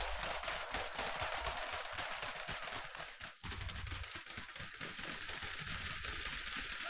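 A six-barrel rotary gun firing in a modded GTA 5, a continuous dense roar of rapid shots that runs loud and steady almost without a break, with no talking over it.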